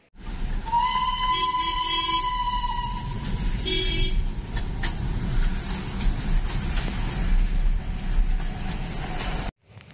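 Darjeeling toy train passing nearby with a clear, sustained harmonic toot from about 0.7 to 3 seconds and a shorter second toot near 4 seconds, over steady road and vehicle rumble.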